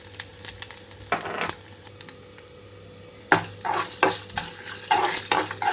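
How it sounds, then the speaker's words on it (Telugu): Chana dal, urad dal, mustard seeds and cumin seeds frying in hot oil for a tempering, with steady crackling and sizzling, stirring and a louder burst of popping spattering partway through. "తాలింపు గింజలు పచ్చిశనగపప్పు, మినపప్పు, అలాగే ఆవాలు, జీలకర్ర వేసి వేయించుకుంటున్నాను."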